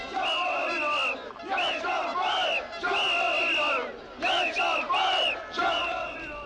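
A dense crowd of protesters roars and chants in a Bucharest square while riot police push forward to clear it. The shouting stays loud and close in rising and falling surges, with brief dips between the bursts.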